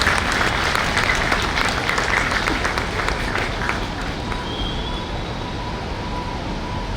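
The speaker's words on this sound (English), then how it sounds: "Let's keep clapping to encourage our prize winner." An audience claps for a prize winner at a bar association event, with loud, dense applause for about four seconds that fades into a softer crowd murmur and a faint high tone.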